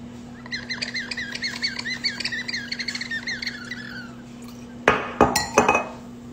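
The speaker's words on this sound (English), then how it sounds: "It is a bird wine topper pourer that chirps when you pour." A bird-shaped wine pourer chirps as wine flows through it, a rapid series of close, high tweets for several seconds, followed by a few sharp glass clinks.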